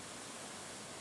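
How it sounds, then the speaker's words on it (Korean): Cheonjeyeon Falls on Jeju, its second tier, pours as a steady, dense broadband roar, a continuous wash of falling water with no breaks and no voices. "제2단 폭포에 도착."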